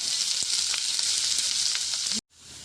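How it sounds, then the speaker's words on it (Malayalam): Curry leaves, ginger and garlic frying in a pan, a loud, close, even sizzle with a few soft stirring clicks, cutting out abruptly near the end before a quieter sizzle resumes; no talk. "നമ്മൾ ആ ചട്ടിയിൽ തന്നെ കുറച്ച് കറിവേപ്പില ഇട്ടു, പിന്നെ കുറച്ച് ഇഞ്ചി ഇട്ടു, കുറച്ച് വെളുത്തുള്ളി ഇട്ടു. ഇനി ഇതൊന്ന് മൂക്കട്ടെ."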